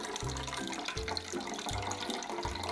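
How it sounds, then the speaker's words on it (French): Pandan extract being wrung out through a cloth by hand, with wet squishing and trickling liquid in a few repeated pulses, close and steady. "on vient prendre tous les rebords de notre tissu et on vient presser"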